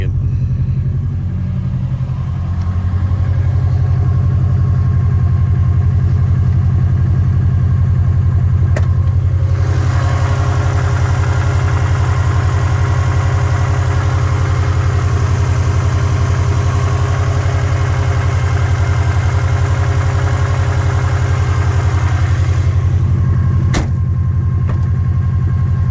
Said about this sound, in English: Listen to the exhaust for a second.